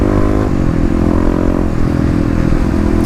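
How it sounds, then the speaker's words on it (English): Kawasaki KLX351 EFI dirt bike engine revving hard on a ride, a loud, close, continuous buzzing drone with shifting pitch and no voice over it. "now that I'm revving the bike out more"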